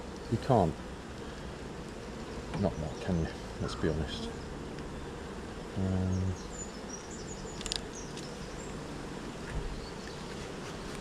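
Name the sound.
honey bees buzzing at a beehive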